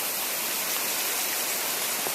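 Steady broadband rush of flowing water outdoors by a farm field, loud and close, an unbroken wash with no talking.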